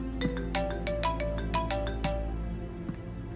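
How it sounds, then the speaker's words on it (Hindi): A phone ringtone plays indoors in a home during a family conversation, a bright repeating electronic melody of quick chiming notes over a steady low hum, loud and continuous for several seconds with no talking over it. "किसका फोन है?"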